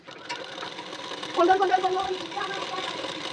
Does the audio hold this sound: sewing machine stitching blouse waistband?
yes